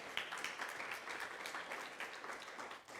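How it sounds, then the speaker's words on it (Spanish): Church congregation applauding, a short burst of dense, lively clapping with distinct individual hand claps audible throughout, moderately loud and without speech. "dale un aplauso fuerte al Señor"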